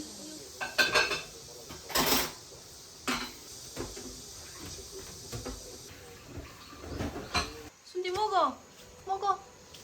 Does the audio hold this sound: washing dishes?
yes